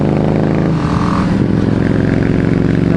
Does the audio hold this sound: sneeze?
no